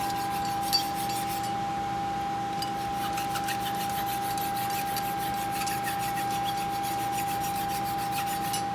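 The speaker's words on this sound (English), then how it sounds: "File this a little bit. Find a sharp spot on this file." A hand file rasps against a metal trigger guard for a Fowler gun in a string of steady, even strokes. The strokes are close and fairly quiet, with a constant faint tone running beneath them.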